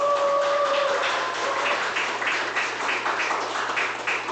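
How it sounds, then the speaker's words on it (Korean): Sustained applause from a crowd of small business owners gathered at a campaign event for a presidential primary candidate, dense and steady throughout, with a brief tonal sound near the start. "큰 박수 부탁드립니다"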